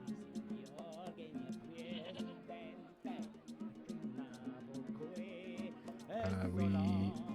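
Goat bleating in the adventure game Broken Sword 2, wavering cries mixed with music and voices, rising louder near the end.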